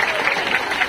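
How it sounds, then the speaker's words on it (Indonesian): A brief burst of applause from a crowd at a religious gathering in Merauke, South Papua, with dense, steady clapping throughout. "Tepuk tangan sekali lagi untuk Indonesia"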